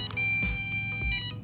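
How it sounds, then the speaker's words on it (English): The transmitter of an MJX Bugs beginner FPV race drone emits a thin, steady high electronic beep with low battery, running continuously over low rumbling handling noise. "It's weird that it's beeping."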